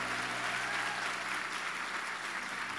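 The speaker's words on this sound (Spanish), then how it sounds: "Eso merecería mínimo un aplauso en este momento" Church congregation applauding during a sermon, with a brief, even burst of many hands clapping together at moderate loudness, no single voice standing out.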